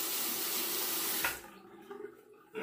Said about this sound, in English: Let me go ahead and drain this sink here and rinse my, or wet my razor